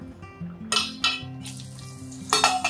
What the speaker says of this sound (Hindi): गरम गरम तेल में बस इसे डाल के निकाल लेंगे